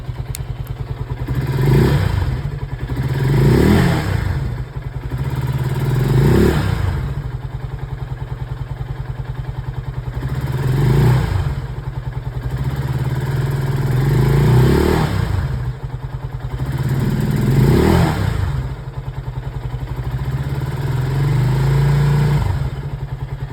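A Lifan KP Mini 150 motorcycle idles just after a cold start, its engine close and loud with a steady low chug. The idle swells and dips in slow, regular surges every few seconds, with faint clattery thumps.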